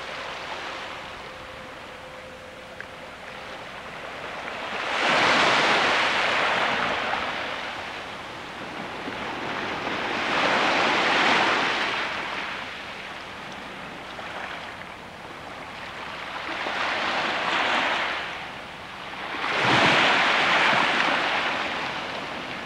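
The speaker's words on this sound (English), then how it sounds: "I'll just listen to the waves." Ocean waves surge onto the shore at Kodiak, Alaska, in four slow, broad swells, each rising to a loud rushing wash and then receding into a softer hiss, with no voices.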